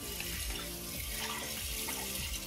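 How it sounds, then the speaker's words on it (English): Cold tap water runs steadily into a pan while rice and fava beans are rinsed in a kitchen, a continuous close splashing stream with no talk. "Rinse cold water in your pan."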